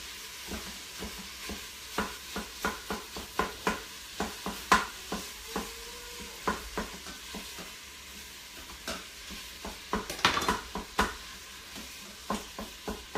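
A pound of ground beef browns in melted butter inside an Instant Pot, a soft steady sizzle broken by a run of sharp scraping clicks as a utensil stirs and knocks against the pot, close up with no voices.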